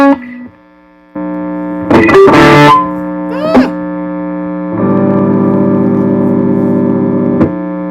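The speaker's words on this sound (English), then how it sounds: "That was that tube distortion pedal." Electric guitar solo played through a tube distortion pedal in a home-studio session, with sustained overdriven notes, a couple of bends and string squeals, and a steady hum running beneath throughout.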